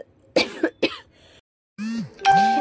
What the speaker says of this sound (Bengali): মাঝখানে কাশি চলে এলো